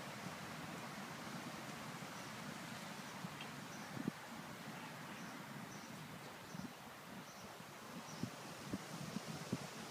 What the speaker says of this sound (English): Well, today is really windy.